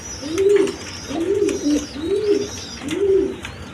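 Pigeons, a male and a female, coo close by in four loud, evenly spaced rolling calls, with faint high chirps above.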